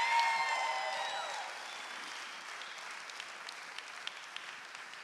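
Wedding guests at a hotel reception applaud, with a full burst of clapping and faint cheers that slowly thins and fades across the moment.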